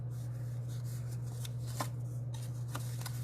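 Paper being folded for a pinwheel fancy-fold card, soft rustling and creasing sounds over a steady low electrical hum, quiet and close.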